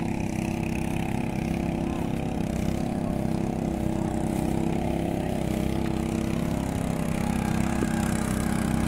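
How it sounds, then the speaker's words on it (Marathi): A tractor engine runs steadily in a flooded paddy field during ploughing in rural Konkan, a continuous loud low drone with a constant rhythmic chug and no pauses. "ट्रॅक्टर चालूचा"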